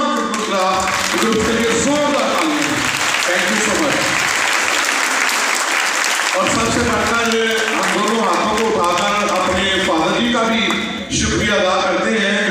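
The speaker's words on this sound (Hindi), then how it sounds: "तमाम ग्रुप्स के लिए जोरदार तालियां" A congregation at a New Year's night Holy Mass in church claps loudly and steadily, with voices and tonal sound mixed through the applause and a brief dip near the end.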